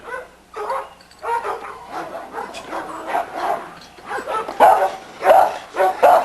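A dog yips and barks in short repeated bursts at close range in a backyard kennel, with some whimpering between the barks.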